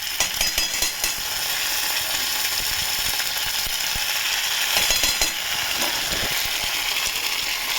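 Ginger paste stirred into browned onions frying in oil, a steady close sizzle with scraping stir strokes running throughout, no talk.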